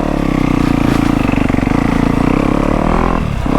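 A dirt bike engine labors loud and close over rough terrain, a steady throbbing drone with a slight dip in revs near the end.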